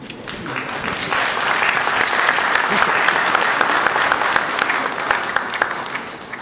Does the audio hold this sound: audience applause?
yes